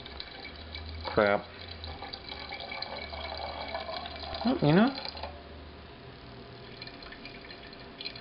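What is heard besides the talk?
home-brewed java stout bubbling in carboy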